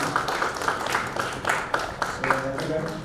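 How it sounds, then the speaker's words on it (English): Audience applause in a lecture hall, a steady wash of many hands clapping at moderate level, with a voice speaking over part of it. "let's a round of applause for her"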